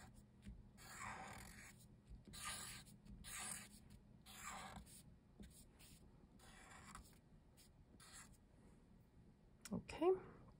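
A Sharpie marker draws circles on paper, giving repeated soft scratchy strokes in rhythmic bursts, quiet and close. A brief louder rustle comes near the end.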